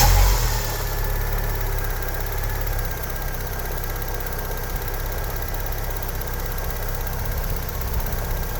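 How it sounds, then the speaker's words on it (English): A Vauxhall Cavalier engine idles while warming up, a loud, steady mid-pitched running drone that stays even throughout with no talk. "we'll run the engine, let it warm up a bit, and then stop it"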